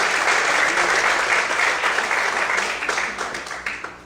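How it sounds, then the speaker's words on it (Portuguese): Sustained applause from a church congregation fills the room, loud and dense at first, then gradually thinning and fading as individual claps become more distinct toward the end. "Bem forte as palmas, amém, queridos?"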